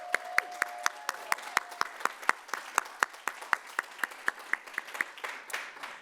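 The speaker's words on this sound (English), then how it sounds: "Let's give a round of applause for our Doctor of Education graduates and degree candidates." A small audience claps at a fall graduate commencement and hooding ceremony for Doctor of Education graduates, with sharp, distinct handclaps at a steady, moderately quick pace that fade toward the end.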